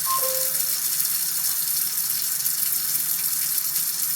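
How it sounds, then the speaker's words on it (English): A MOEN smart kitchen faucet runs in a steady, even hiss of flowing water, preceded by two short electronic beeps at the start. "Hey Google, ask MOEN to turn on the water."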